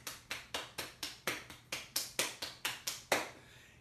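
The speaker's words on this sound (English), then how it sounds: "in Sumatra, there's a very beautiful, beautiful style of clapping that looks like this" Sumatran-style clapping with fingers struck on the palm: about thirteen crisp, even claps in quick, steady rhythm, close and clear, ending with a slightly louder final clap.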